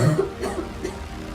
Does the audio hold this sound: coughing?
yes